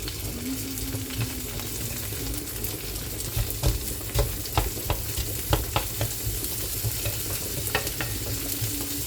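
Garlic frying with rice and eggs in a pan, a steady hiss of sizzling with scattered crackles and pops, close and moderately quiet, no talking.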